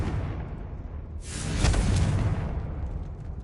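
A fiery blast erupts as the Confringo explosion spell is cast in a Hogwarts video game: a sudden whooshing burst with a low boom that swells and lingers over a rumbling game background.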